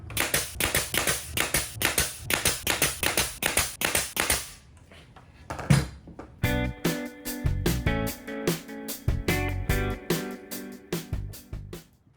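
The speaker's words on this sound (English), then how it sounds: "I'm gonna nail gun down into it" Repeated sharp nail gun shots fired down into a clamped wooden birdhouse in a workshop, a rapid run of loud bangs, then a short pause and another series of heavier, irregular hits with music-like tones behind.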